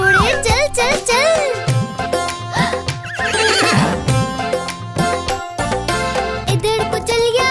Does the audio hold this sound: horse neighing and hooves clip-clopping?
yes